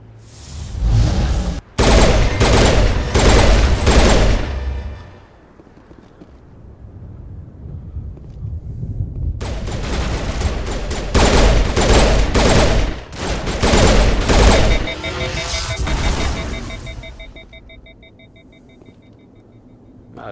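Loud bursts of gunfire from a gun in the video game Mass Effect, arriving as two long sustained volleys separated by a quieter lull, with a steady electronic whine lingering near the end.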